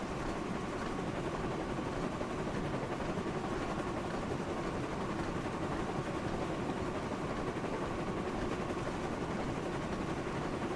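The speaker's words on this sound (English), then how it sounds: "Ah, the sound of steam trains." A steam train runs in the video game Thomas & Friends: Wonders of Sodor, producing a continuous, loud, even rumble with no breaks and no voices.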